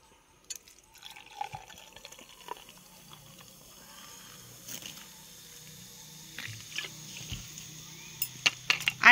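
Chilled Sprite is poured into a glass with lemon and mint to make a sweet sherbet drink. Soft liquid trickling and dripping build gradually, with fizzy splashes growing louder near the end.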